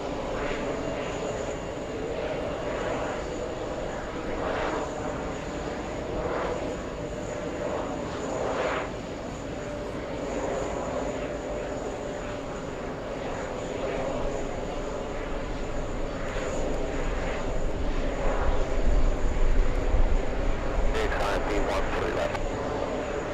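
Fixed-wing airliner engines rumbling steadily at a distant airport during a landing, a broad continuous roar that swells toward the end, with people talking over it.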